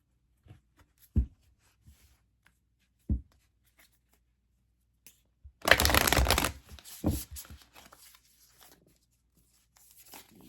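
Tarot and oracle cards shuffled close up, with a few soft isolated taps and flicks followed by one dense riffling burst and some scattered card sounds after.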